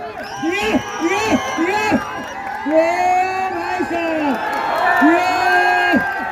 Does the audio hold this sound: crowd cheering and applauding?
yes